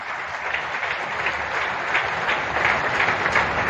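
Audience at a Delhi government event marking a DTC bus flag-off breaks into sustained applause, dense overlapping clapping that holds at an even, moderately loud level throughout.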